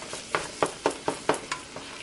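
Ground beef and sausage cook in a pan while a spatula breaks them up, giving about eight rhythmic scraping strokes over a soft sizzle close by.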